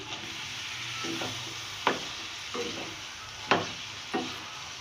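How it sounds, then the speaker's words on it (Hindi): Capsicum and other vegetables being stirred in a pan, with several distinct scraping strokes over a soft, steady background sizzle; no voices. "इन तीनों सब्जियों को डालकर मैं बहुत अच्छी तरह से मिक्स कर दूंगी।"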